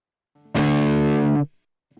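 A high-gain distorted guitar note rings loud and sustained for about a second, then a noise gate snaps it off cleanly into near silence with no hiss trailing behind.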